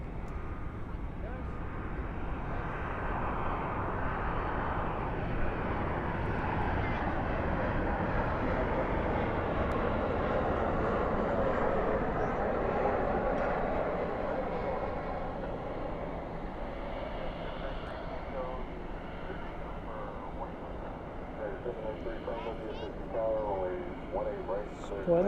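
An airliner lands at night at Dallas Fort Worth airport with spoilers up and thrust reversers deployed, producing a broad sustained roar that peaks mid-clip and then fades, with a person talking over it near the end.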